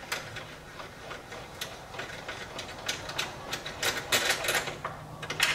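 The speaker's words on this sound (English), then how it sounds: "we've got to take our last two bolts out on this side" Bolts being removed in the engine compartment of a C8 Corvette, giving a steady run of close mechanical clicks and ratcheting ticks that speed up toward the end, with no talking.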